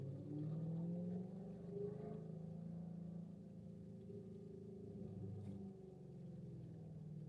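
A Chevrolet Camaro ZL1 engine drones steadily while driving, a low continuous rumble with slight pitch shifts as revs rise and settle, heard from inside the car.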